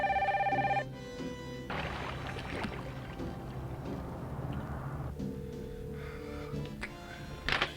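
A telephone in a film rings with an electronic bell tone at the start, then gives way to background music and ambient noise, with another short ring burst near the end.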